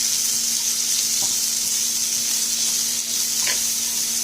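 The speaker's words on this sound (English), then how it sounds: "Now, you're just going to stir this." Caramelizing vegetables for Chicago Italian beef sizzle steadily in a pan, a continuous close hiss with a few faint scrapes as they are stirred.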